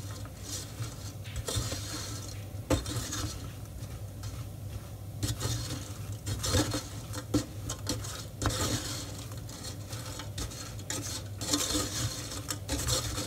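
Melting sugar is stirred over almonds in a pot for burnt almonds, making continuous scraping and gritty rattling with irregular louder knocks of the spoon against the pot.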